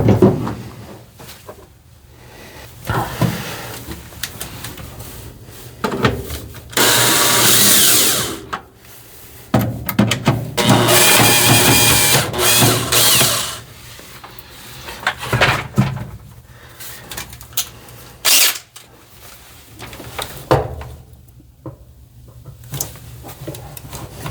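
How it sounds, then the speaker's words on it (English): A power drill spot drills in several short bursts, loud and close, separated by pauses filled with clicks, handling knocks and rattling, while speaker pods are installed in a 1969 truck. "Pull this thing out, spot drill it, and then drive her home."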